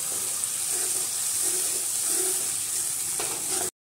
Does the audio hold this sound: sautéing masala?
yes